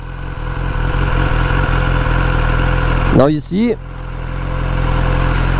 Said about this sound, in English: press your engine start button and hold it for some seconds